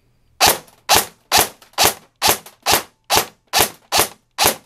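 Retro Arms Pandora SR25 airsoft rifle, stock internals apart from the ETU, gears and motor, on an 11.1 V lipo with 0.2 gram BBs, fires ten sharp, evenly spaced single shots, loud and close, with nothing else heard.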